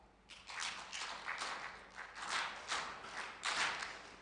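An audience at a teacher award event in Karongi District claps together in rhythmic bursts, a series of soft, distant rounds of collective clapping rising and falling in even waves.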